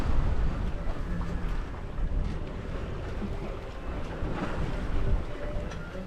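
A sailboat under sail with its engine off at sea, giving a steady broadband rush of wind and water with wind buffeting the microphone, loud and close with no voices.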